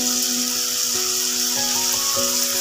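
Chilli and garlic sizzle in hot oil in a wok, giving a steady, dense crackling hiss with a faint humming tone running underneath throughout.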